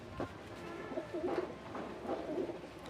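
A female Bhutgola pigeon coos nearby, soft repeated throaty coos in a steady rhythm over a faint background hum.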